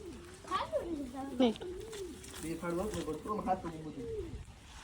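Several pet pigeons coo while perched together, with soft throaty rolling calls repeating close by and overlapping one another throughout.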